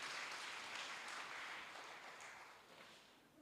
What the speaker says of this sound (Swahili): Pigia huyu mama makofi mazuri.